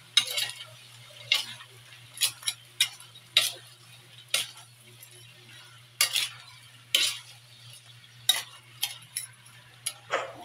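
A utensil stirs shrimp cooking in a pan, making repeated scraping clinks in an uneven rhythm over a faint sizzle and steady low hum, close and without speech.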